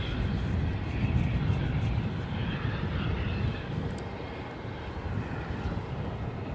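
A steady, broadband roar of a Korean Air airliner's jet engines continues throughout, loud and dense with low rumble and some wind noise, without a break.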